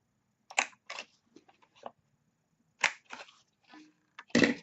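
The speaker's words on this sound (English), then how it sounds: "we're just going to pop the top into the corner rounder" Sharp clicks and snaps from a corner rounder punch as a paper favour box top is rounded, several short crisp clacks in irregular groups, close and fairly quiet, with small handling rustles between them.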